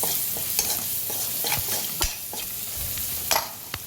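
Masala with green chillies being sautéed in a pan for a banana-flower vegetable dish, a continuous close sizzle broken by repeated scraping strokes of a spatula.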